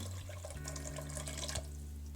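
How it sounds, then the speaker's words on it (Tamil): Water pours steadily into a cooking pot for rice, a soft continuous splashing and trickle, faint and close, with no talking. "அரிசிக்கு தேவையான தண்ணி ஊற்றலாம்"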